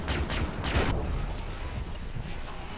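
Several rapid heavy shots from a weapon in the game Far Cry 3: Blood Dragon, a loud burst in the first second that gives way to a lingering rumbling background.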